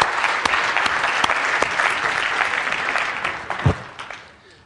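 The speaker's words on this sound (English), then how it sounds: "Could I invite everybody to give a big applause to our young bloggers today?" A conference audience claps for a group of young bloggers, a dense, sustained round of applause with a few sharper individual claps that gradually thins and fades out at the end.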